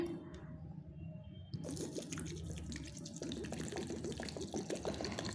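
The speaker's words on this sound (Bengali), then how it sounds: "তো এই ডাল আর চালটাকে ভালো করে ধুয়ে নিতে হবে।" Tap water runs into a sink as lentils and Gobindobhog rice are rinsed, a close, steady stream with sloshing and splashing that grows fuller after the first second or so.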